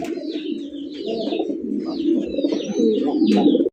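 Pigeons at a farm, including fancy breeds kept with squabs, coo in low rolling phrases one after another at close range, with a few faint chirps over the top.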